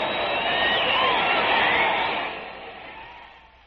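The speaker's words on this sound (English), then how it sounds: "Listen to that crowd." Broadband roar of a large crowd at Briggs Stadium in Detroit during a 1958 Tigers game, loud and sustained, swelling then slowly fading out, with no distinct speech over it.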